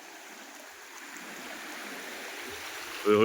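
Rain-swollen floodwater rushes in a stream and pours over a bridge, a steady broadband roar that builds slightly before a louder burst near the end, with no talk.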